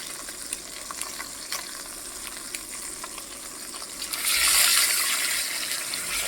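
Marinated pork fries in lard with a faint continuous sizzle and light stirring, then the hiss swells noticeably louder and brighter for the last couple of seconds.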